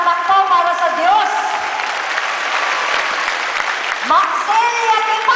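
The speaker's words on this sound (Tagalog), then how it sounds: "Malakas na palakpak po para sa Diyos." Applause and cheering in a church thanksgiving celebration in Pangasinan, Philippines, a loud sustained wash of clapping with excited voices shouting over it throughout.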